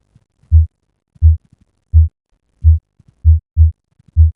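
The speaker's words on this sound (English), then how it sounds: "It's a heartbeat." Synthesized heartbeat from a heart rate app: soft, muffled low thumps pulse alone at a steady rhythm of about one and a half beats per second.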